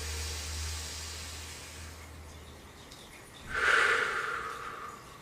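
A single deep breath taken during a guided group meditation, with a soft, noisy inhale that swells late and stands alone over a faint low hum.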